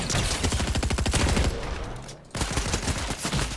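Rapid bursts of enemy gunfire in Fortnite, loud sustained volleys that break off briefly near the end before resuming, with no speech.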